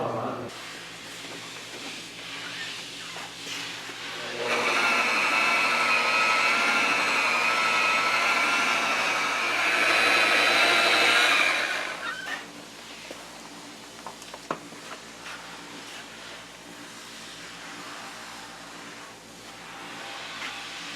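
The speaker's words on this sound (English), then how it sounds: "Now I'm ready to polish." An electric polisher buffs automotive clear coat after 1500-grit wet sanding in a garage shop, whining loud and steady for about seven seconds before spinning down, leaving quiet shop noise with a few small clicks.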